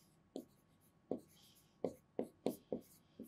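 Marker or chalk strokes tap and scratch on a board during a biology lesson, seven short distinct strokes in an irregular rhythm with faint background between them.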